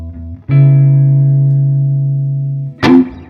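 A vintage electric guitar on a clean amp setting plays a note that rings out sustained and full, fading slowly, followed by a short plucked attack at the end.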